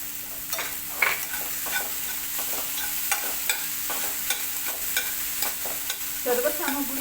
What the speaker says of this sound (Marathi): सर्व सामग्री शिजलेली असल्यामुळे फारसं परतावं लागत नाही